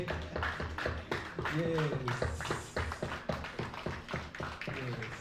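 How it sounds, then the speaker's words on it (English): A summit audience claps in a standing ovation, dense and sustained, with voices and cheering mixed in and a person speaking briefly over the applause. "Let's give them a standing ovation."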